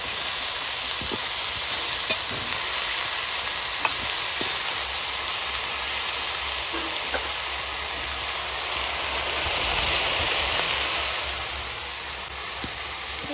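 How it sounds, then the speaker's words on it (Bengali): Pumpkin greens frying lightly in a pan give a steady, even sizzle with faint occasional clinks, continuous and fairly close throughout. "কুমড়ো শাকটাও দিয়ে দেবো একটু ভেজে নেব"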